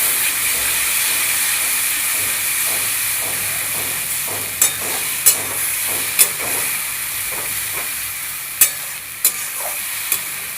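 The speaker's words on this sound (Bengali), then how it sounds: "এই মশলাটাকে আমি ভালো করে কষিয়ে নেব।" Spice paste with ginger paste and raw chilli being fried for catla fish, a steady loud sizzle and hiss from the pan, with spatula scrapes and a few sharp clinks against the pot partway through.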